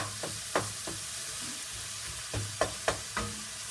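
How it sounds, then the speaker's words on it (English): Browning ground beef mixed with chili powder in a pot, a low sizzle under repeated scraping strokes and spoon knocks, close and fairly quiet, with no one talking. "kind of stirring it up so that the beef and the chili powder are mixed together well"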